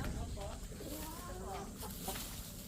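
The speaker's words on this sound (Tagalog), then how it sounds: "Ito, ang gaganda ng mga manok." Texas gamecock chickens clucking at a farm, scattered calls over steady outdoor background noise with faint voices nearby.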